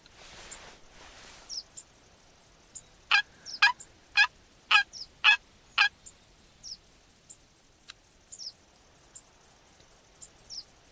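Series of about six short, evenly spaced gobble calls from male turkeys in the hunting game theHunter Classic, mid-distance over a steady high insect-like hiss with scattered faint chirps.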